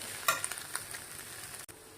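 Ground vegetable peel paste sautéing in a pan gives a steady soft sizzle, with a few light stirring scrapes near the start and no voices.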